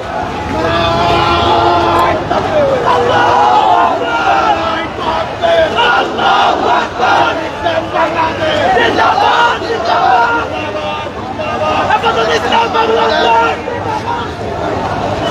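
A Hefazat-e-Islam protest march crowd chants loudly and continuously, with many voices shouting together in rhythmic waves over a dense roar of street noise.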